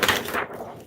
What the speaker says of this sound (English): So we're going to be using that sandpaper again.